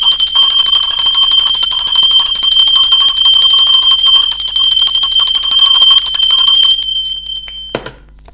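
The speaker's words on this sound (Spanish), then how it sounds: "Va, va, campana." A bell rings continuously in a loud, close, sustained metallic trill with bright overtones that hold steady for about seven seconds, then stop abruptly and decay, followed by a brief knock.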